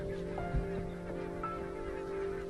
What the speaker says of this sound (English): Every winter, barnacled geese arrive right on cue at the same Scottish river.